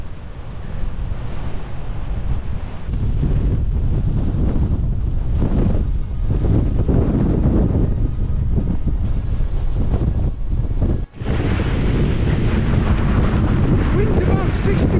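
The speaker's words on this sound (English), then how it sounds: "Wind's about 60 miles an hour up here on the plateau." Strong wind of about 60 mph buffets a microphone on an exposed mountain plateau on Great Dodd in the Lake District, a loud continuous roaring rush that briefly drops out, then resumes even harsher.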